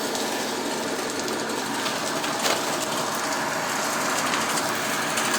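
A steady, loud drone from a 15 kW belt-driven extruder motor making animal sticks, with a constant mechanical whir and rattle, running evenly without pause and no voices.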